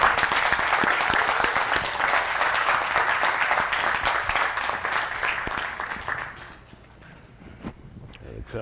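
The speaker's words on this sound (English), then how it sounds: "Give Mr. Yahuwah a hand clap." Audience applause and hand clapping at a gathering, loud and dense at first, then thinning and fading toward the end, with voices mixed in.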